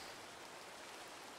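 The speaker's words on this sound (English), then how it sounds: "It's raining right now" Steady, quiet hiss of falling rain in Minecraft, a soft continuous broadband wash with no distinct drops standing out and no talk over it.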